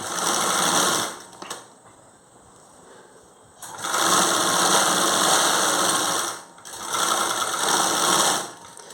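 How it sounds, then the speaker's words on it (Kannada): A sewing machine stitching a blouse runs in three loud, steady motor-and-needle bursts, with a quieter pause after the first and a brief drop before the last, close to the listener and without speech. "ಈ ರೀತಿ ಇಟ್ಕೊಂಡು ಜಸ್ಟ್ ಸ್ಟಿಚಿಂಗನ್ನು ಮಾಡುವಂಥದ್ದು"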